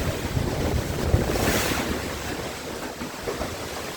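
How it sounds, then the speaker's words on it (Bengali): Strong wind from Cyclone Remal roars and buffets the microphone in a steady, loud rush, with a surging swell of stormy weather outdoors amid rain; no voices. "ঝড় বৃষ্টি হচ্ছে, খুবই খারাপ অবস্থা"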